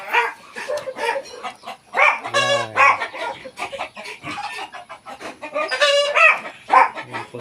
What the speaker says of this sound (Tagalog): Ayan po sila, Rhode Island Red at saka Black Australorp.